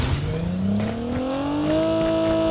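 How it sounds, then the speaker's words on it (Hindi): A video game car engine revs up and climbs steadily in pitch as the vehicle pulls in close and loud, with a continuous rising drone and no talk over it. "गाड़ी से आ गया वो।"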